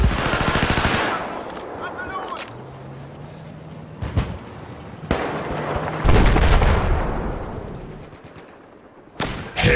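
Gunfire from the first-person shooter Battlefield 4, with bursts of automatic fire and sharp shot impacts scattered across the clip amid busy in-game combat noise and a low rumbling background.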